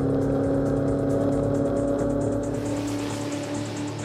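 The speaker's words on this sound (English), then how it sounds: "that was a Holden 308, and the sound of that" A Holden 308 V8 engine in a Torana A9X race car rumbles loud and close, a deep steady throb with a rough burbling edge that eases slightly toward the end.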